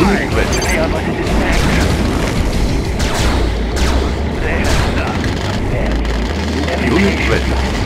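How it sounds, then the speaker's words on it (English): Missile launches and explosions from the strategy game Red Alert 2 rumble as a dense, loud, continuous bed of booms and blasts across the whole stretch, with game voice lines sounding over the battle noise. "Let the missiles fly."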